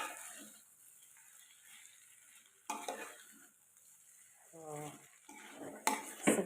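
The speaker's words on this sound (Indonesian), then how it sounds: "Kita kocek semuanya perlahan sampai merata ya." Fried tuna stirred slowly in a pan with a spatula, giving soft scraping and clinking against the metal over a light sizzle, close, with brief bits of a voice in between.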